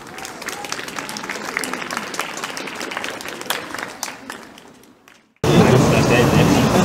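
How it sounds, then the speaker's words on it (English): Audience applause at a school sixth-year leavers event, steady clapping that fades to near silence before a second, louder burst of close, dense clapping. "So a big round of applause for Ellie Schofield."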